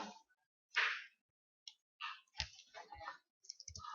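Short bursts of clicky taps on a computer keyboard, irregular and close, separated by brief silences, with no voices.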